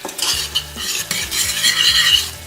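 A utensil stirring spices into Turkish lentil soup in a pot, repeated scraping strokes with a light sizzle, loud and close, no talking.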